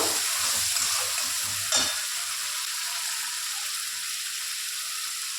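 Green chilli, ginger and onion paste masala frying in a pan, a continuous dense sizzle close by with a brief stir near the start, no talking.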